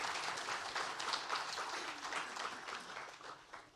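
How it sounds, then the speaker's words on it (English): An audience gives a round of applause at a fireside chat event, a full, steady burst of clapping that tapers slightly toward the end, heard without talk. "Give a round of applause."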